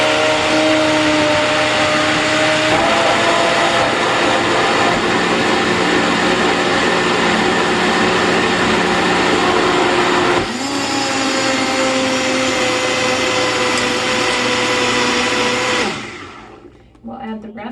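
A nearly 20-year-old Vitamix blender whizzes a vegan dessert mixture in a steady loud whir, rising in pitch partway through, then winding down and stopping near the end.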